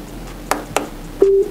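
Pyle PA speaker emitting electronic mode-switch tones while changing to Bluetooth: two short clicks followed by a pair of clear, steady beeps, close and fairly loud with no talking.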